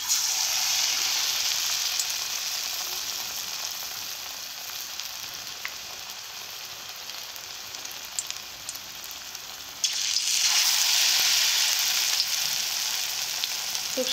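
Bitter gourd slices coated in gram flour batter sizzle in hot oil in a wok, a steady bright frying hiss that softens slightly, then flares louder as more pieces drop in.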